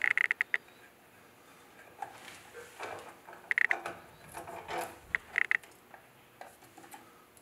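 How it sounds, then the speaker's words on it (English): A tool works a stubborn plug loose from a water heater gas valve, giving repeated clicking ratchet bursts in three short groups between quieter metallic scraping and turning, close by with no speech. "Sometimes this plug can be a little difficult to get out."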